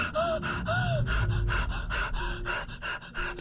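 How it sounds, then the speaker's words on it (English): An astronaut's heavy breathing and sharp gasps in the space game ADR1FT, a close, rhythmic series of panting inhales and exhales that repeat steadily, with no talking. "It's a lot of breathing in this game."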